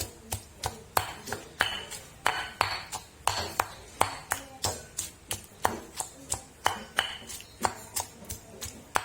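Steady, regular pounding of shrimp with a pestle in a mortar, sharp thuds repeating about twice a second, close and fairly loud, with no talking.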